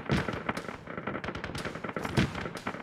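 Enemy gunfire in the military shooter Arma 3, a dense crackle of rapid shots and bursts at moderate distance, steady and continuous without pauses.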